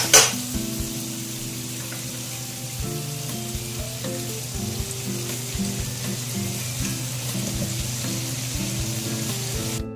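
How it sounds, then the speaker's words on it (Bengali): Onions frying in oil in a pan, a steady close sizzle with intermittent stirring and scraping clatter from the pan, loud and continuous with no talking. "পেঁয়াজটা একটু ভাজা ভাজা করবো"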